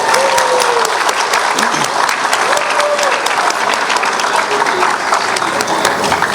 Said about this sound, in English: Please give a round of applause for all the beautiful ladies out there.